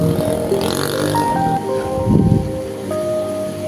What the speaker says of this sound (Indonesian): Dan ini hujannya cukup lebat sekali teman-teman, tidak bisa kalau dipaksakan.